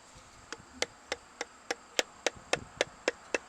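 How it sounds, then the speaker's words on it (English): About ten gentle, evenly spaced metallic taps ring out from a hammer tapping a new handle into a hammer head on an anvil, each a sharp bright tick with a brief ring, close and alone. "So now we just want to give that a few gentle taps"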